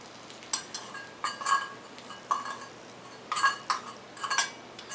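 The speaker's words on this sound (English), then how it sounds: "you can actually hear the tobacco in the actual bowl sizzling a little bit" Faint, continuous sizzle of hookah tobacco heating under coals in the bowl, with scattered soft clinks and taps close by, quiet and steady, no voices.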